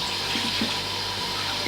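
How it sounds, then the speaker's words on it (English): A kitchen tap runs steadily while carrots are washed under it, a close, continuous hiss of flowing water with faint knocks of handling and a low background hum. "So we're not going to peel the carrots, we're going to wash them."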